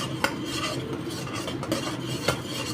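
Mutton sautéing with garlic in a pot over full flame, a close steady stirring and scraping with a faint sizzle and a couple of sharp spoon knocks against the pot, no talking.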